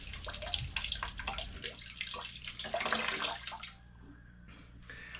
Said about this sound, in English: As you can see, it just starts to bleed out the filter.